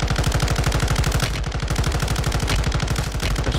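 Rapid automatic gunfire in a video game, a loud, steady stream of fast rhythmic shots lasting throughout with only a brief pause partway.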